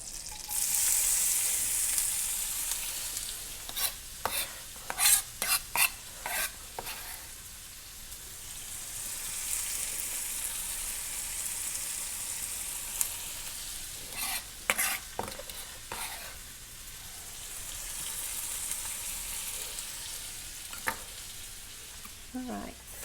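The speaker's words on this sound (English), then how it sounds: "I can already hear it sizzling in the background, so we're going to put our onions over there." Onions sizzling and frying in a cast iron pan for a seared chicken hash. A soft, steady hiss runs throughout, broken by repeated clinks and scrapes of stirring, heard fairly quietly.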